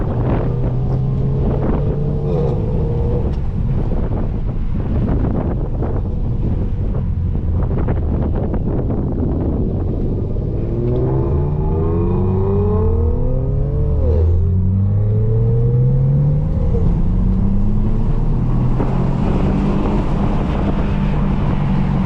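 Inside a 6-speed Nissan Altima on the road, heavy wind rush and road roar fill the cabin while the engine note climbs in pitch as the car accelerates. No one speaks.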